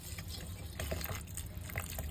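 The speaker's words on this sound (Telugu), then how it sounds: "కొంచెం వాటర్ కూడా పోసుకోవాలి, ఎక్కువ కాదు, కొంచెం." A small amount of water is poured into a chicken dish in the kitchen, a soft, steady trickle with faint splashes lasting about two seconds, low and close with no talk.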